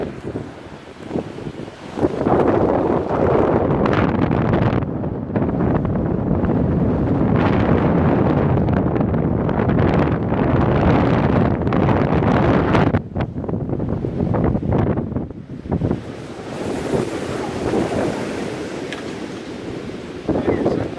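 Heavy wind buffets the microphone almost continuously on an observation deck at Meteor Crater, Arizona, a loud roaring rumble that swells and dips, with faint voices partly buried beneath it.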